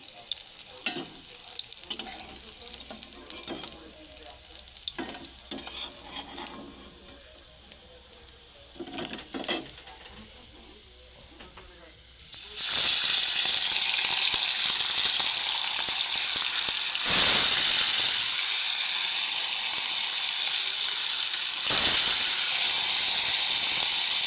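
Sarpunti fish frying in hot oil: quiet crackles and clatter at first, then a loud, steady sizzle bursts in and hisses continuously.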